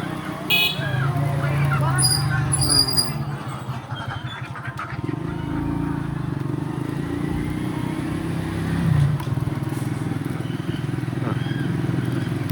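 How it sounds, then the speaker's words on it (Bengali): A motorbike rides along a village road beside the Mahananda river, its engine a steady drone with wind rush throughout and a couple of horn toots near the start. "বাইকে করে এখন ফেরত যাচ্ছি।"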